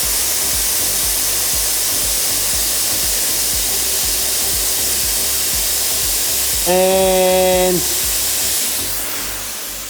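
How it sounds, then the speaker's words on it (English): A Chief Steamer 125 steam cleaner held at around 100–110 PSI releases a loud, continuous hiss of escaping steam that runs for the whole clip. A brief tonal whistle or beep sounds near the end, and a voice speaks a single word. "Definitely be steaming for quite a while without losing much pressure"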